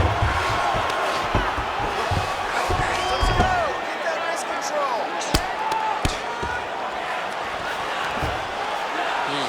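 A crowd cheers in the UFC 5 fighting game, a steady roar under thuds of strikes landing, while a commentator talks over it.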